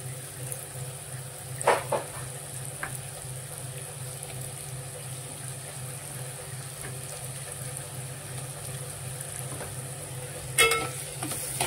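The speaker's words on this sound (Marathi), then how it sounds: "आता टाकून घेऊया अद्रक लसूणची पेस्ट" Ginger garlic paste goes into a pan of onion and tomato masala for a bitter gourd dish, giving a low steady sizzle with occasional scrapes and knocks of stirring.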